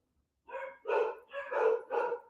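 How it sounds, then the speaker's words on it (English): Puppies barking in a rapid run of four or five bright, yappy barks, fairly close and clear with no talking over them. "the puppies are barking away"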